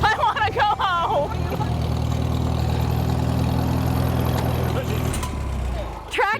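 A farm tractor engine idles and runs steadily with a low, constant rumble throughout, while people talk and shout over it.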